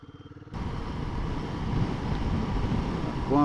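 A Royal Enfield motorcycle on a leisurely ride home from a cafe in Branston, its engine rumbling steadily and close with wind noise after an idling thump at the start, no talk.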